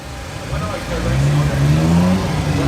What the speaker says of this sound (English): Datsun 240Z, the mighty straight 6-cylinder engine there under the bonnet,